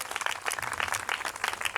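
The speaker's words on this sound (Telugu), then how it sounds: "కొట్టండి అమ్మా చప్పట్లు" An audience claps together at a Telugu revival meeting, a dense, steady patter of many hands running throughout, moderately distant and fairly faint.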